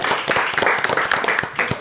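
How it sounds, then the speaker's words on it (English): Quick, uneven clapping from a small group of people in a podcast studio, close and fairly loud, lasting under two seconds. "Clap it up."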